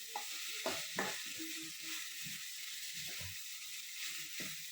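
Hotel-style tomato chutney frying in a pan gives a soft, continuous hiss, broken by scraping and clinking as a spoon keeps stirring it.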